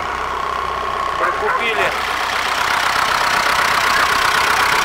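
A ZIL 5301 truck's diesel engine idling close by with the hood open, a steady low rumble throughout while someone speaks briefly over it.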